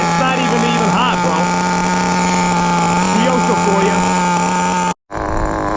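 Kyosho FW-06 nitro RC car with a two-speed chassis, its small engine buzzing loud and steady with a sharp high whine and shifting pitch, briefly cutting out near the end before picking back up.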